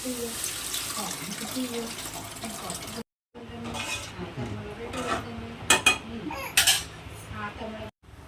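Tamarind water pours and splashes into a pan of sautéed onions amid clinks of cookware, with a person talking over it.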